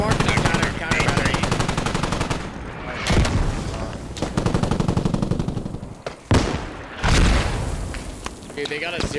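Dense bursts of rapid automatic gunfire rattle almost without pause in a military video game, broken by heavier booms from mortar strikes, with voices faintly present beneath the loud, close barrage.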